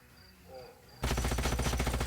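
Units in the sci-fi strategy game Age of Wonders: Planetfall open fire after a quiet lead-in, and a loud, sustained rhythmic volley of automatic shots starts abruptly and keeps pounding to the end.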